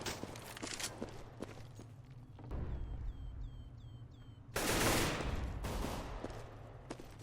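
Gunfire rings out in Counter-Strike on de_dust2 during an ESEA Invite match, with scattered shots and footsteps, then two louder bursts of rapid fire, the heavier one near the end.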